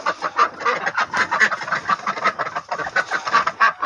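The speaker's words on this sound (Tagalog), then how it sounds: "ito yung ating mga peking duck. Ayan. Mga nagugutom na," Hungry Peking ducks on a farm quacking and clucking together in a dense, continuous chorus, close by and fairly loud, with no talk over them.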